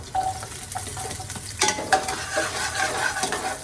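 Chopped onion hits preheated oil in a pan, giving a steady close sizzle with scraping stir strokes of a utensil partway through; no one speaks.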